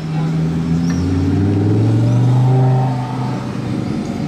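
A Porsche GT2 RS engine revs and roars as it approaches and passes nearby, the pitch climbing then falling away.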